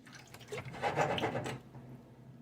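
Water poured into a pot of rice, a short splashing, gurgling pour of about a second and a half, fairly faint and close, with no speech.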